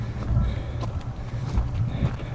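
Wind buffeting the microphone outdoors during a hot uphill bike ride toward Cassis, a steady low rumbling roar with gusty swells throughout, loud and close with no talk.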